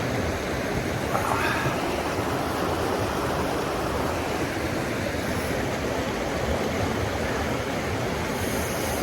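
Steady, close rush of a cold stream flowing in the Grand Canyon, a broad continuous wash of moving water filling the whole stretch with no talk over it.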